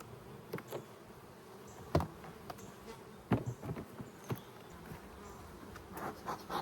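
Honey bees buzz around an opened hive during a brood chamber inspection, a faint steady hum broken by sharp clicks and knocks of handling, with no voices.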